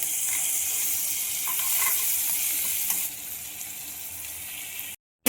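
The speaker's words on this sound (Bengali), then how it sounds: "এবার এর মধ্যে আমি রসুন বাটাটা দিয়ে দেবো।" Garlic paste added to onions frying in oil brings a bright, continuous sizzling hiss that is louder at first and settles lower after a few seconds, with no talking.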